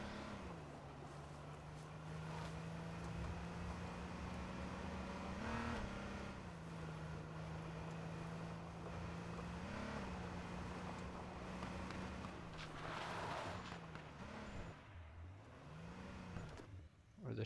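A car engine drones steadily in the video game H1Z1, its pitch holding level then rising and falling as the vehicle revs and maneuvers, faint and mixed with wind-like noise.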